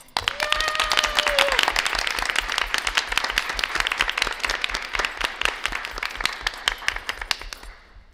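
An audience at a school board meeting applauds a second-grade student essay winner, dense clapping from many hands starting sharply, holding strong for several seconds and then thinning out, with a brief voice near the start.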